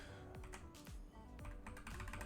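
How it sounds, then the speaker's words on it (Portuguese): Rapid clacking keystrokes on a mechanical keyboard sound in quick uneven bursts, close and steady. "Eu comprei um teclado mecânico e eu tô fazendo junto com o vídeo. Vê se tá muito barulhento"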